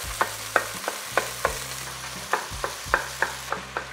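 An 80-20 ground beef block browns in a pot for chili, a steady low sizzle broken by a dozen sharp scraping stirs and chopping taps at an irregular rhythm, close and alone.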